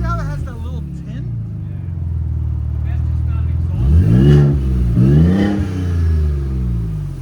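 A big-block Ford Raptor truck engine idles with a deep rumble, then revs hard twice around the middle, each surge rising and falling, close and loud under continuous background talk.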